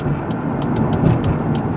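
2005 Dodge Grand Caravan SXT rolling down the road from inside the cabin, a steady low engine and tire rumble with faint rattles, no talk.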